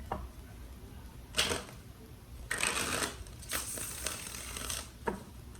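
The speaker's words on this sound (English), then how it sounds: "Let's do 3 more shuffles" A deck of tarot cards being shuffled gives several short, close rustling bursts with a faint hiss in the pauses between them.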